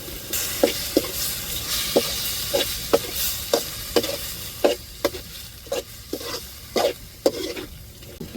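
Tuna sukka sizzling in a pan as turmeric powder is stirred in, with a soft frying hiss under a regular series of close scraping taps from the spoon against the pan, no talking.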